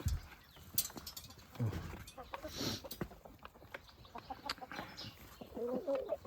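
Six-month-old Jersey Giant hens clucking and chattering nearby in a farmyard in autumn, scattered calls over a busy outdoor background with a few knocks and rustles.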